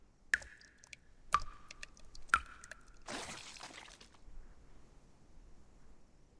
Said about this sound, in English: Sounds like dripping water.